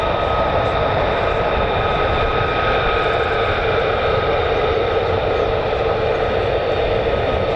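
A US Air Force F-35A fighter jet at RAF Lakenheath roars continuously, a loud steady broadband engine drone with tonal whine layered on top, holding level throughout without any voices.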